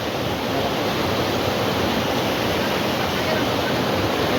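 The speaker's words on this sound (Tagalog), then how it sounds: "So ito ang sapa ngayon." A rocky mountain stream rushes steadily over large boulders, a dense, continuous wash of water close by with no pauses and no voices.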